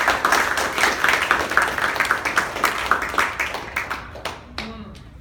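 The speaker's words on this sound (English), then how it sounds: "Let's give her a big round of applause." Audience applause at a poetry open mic night, a dense run of clapping from a crowd that starts loud and gradually thins and fades out over about five seconds.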